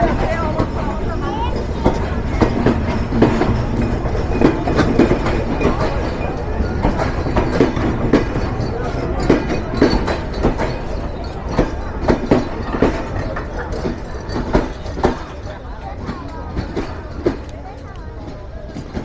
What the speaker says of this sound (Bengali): আন্তনগর নীলসাগর এক্সপ্রেস জয়পুরহাট রেলওয়ে স্টেশনে 5 মিনিট যাত্রা বিরতি সম্পূর্ণ করে ছেড়ে যাচ্ছে